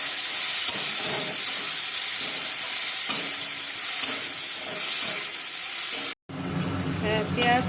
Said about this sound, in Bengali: পেঁয়াজ আর জিরে ভাজা হয়ে গেছে